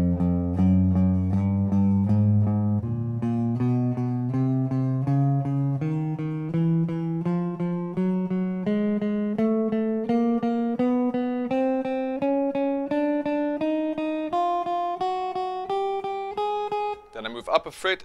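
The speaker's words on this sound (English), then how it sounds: "The second option that you've got would be to play each note twice" Electric guitar picking a rock lesson exercise, each note struck twice in an even, steady rhythm as the line climbs gradually higher in pitch, clean and close, ending with a brief scrape.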